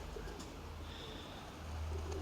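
Pigeons coo faintly in low, murmuring calls against a quiet background, somewhat distant, with no voices.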